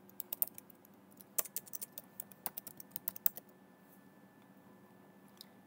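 Someone types a project name on a computer keyboard in TIA Portal V15.1 software: quiet, close keystrokes in an uneven run of clicks, bunched early and thinning out, with no talking.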